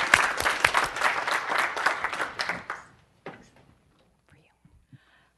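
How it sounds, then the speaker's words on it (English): An audience applauds warmly to welcome Linda Zhang at a Canada China Club competition event, a dense burst of clapping that fades out after about three seconds, followed by a few faint scattered sounds. "I think this lady really deserves a warm welcome and a warm applause for bringing us all here today."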